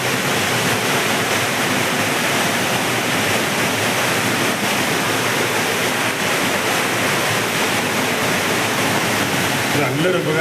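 Rainwater rushes loudly and continuously under a road culvert on a national highway in Malappuram, Kerala, a dense, close roar of flowing water that holds steady without a break.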